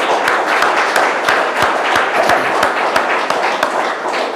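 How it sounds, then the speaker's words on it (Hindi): Loud, dense, continuous clapping fills the room as a congregation applauds to welcome God during a Sunday service at Voice of God Church in Balrampur, with a few sharper individual claps standing out from the steady wash. "आइए हम परमेश्वर को धन्यवाद देंगे और उसके ताली बजाकर उनके स्वागत करेंगे।"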